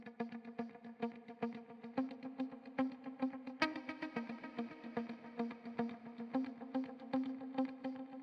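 Muted clean electric guitar plays a quick, steady stream of palm-muted plucked notes with a bright chordal strum midway, fairly quiet and alone, with shimmer-like ambience trailing behind.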